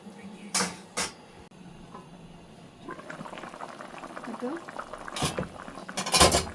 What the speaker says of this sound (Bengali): এখন আমি ঢেকে দেবো, মাছটা অপেক্ষা করবো।